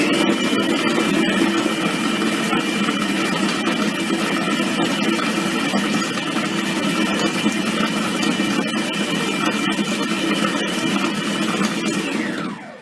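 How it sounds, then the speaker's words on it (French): A Moulinex Companion food processor runs at speed 12, blending nem filling with a steady, loud motor whine that holds constant for about twelve seconds before cutting off at the end, with no talk over it. "Je le programme vitesse 12 pendant 15 secondes."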